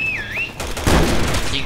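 Gunfire in Resident Evil 6, sounding as a sudden burst of shots after a short whistling tone, dense and loud with a rumbling low end that keeps going to the end.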